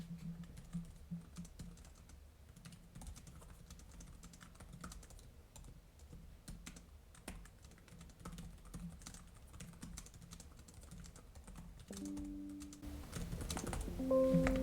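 Quick, steady keystrokes on an ASUS Vivobook S 14 laptop keyboard, soft close-up tapping in an even rhythm that runs throughout, with a brief electronic tone and some handling noise near the end.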